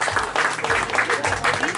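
An outdoor festival crowd applauds a jazz manouche quartet, dense loud clapping throughout with a voice speaking over it.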